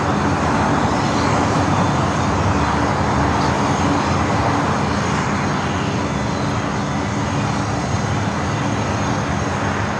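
A Lufthansa Boeing 747 taxiing on the airfield toward the gates gives a steady, continuous engine drone, a sustained broadband rumble with a thin high whine that holds even throughout.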